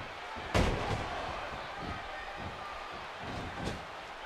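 A wrestler is slammed onto the ring mat in a spinning power bomb during an independent wrestling show. One sharp, booming impact lands early, and crowd noise murmurs around it at moderate distance.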